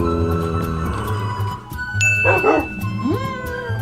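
Dogs in the Minecraft video game bark and yip several times in short bursts, with whimpers and game sound effects mixed in, fairly close and clear.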